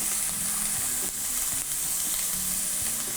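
Vegetables sizzling in a hot frying pan while cooking Tex-Mex stuffed peppers: steady, loud crackling hiss with occasional soft clunks of the pan or utensil, close up and without any talk.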